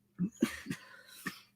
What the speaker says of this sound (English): Got a cough going on.